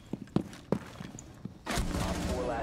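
Gunfire in a multiplayer shooter game: a few scattered sharp shots and thuds, then a sudden dense burst of sustained rapid fire that carries to the end.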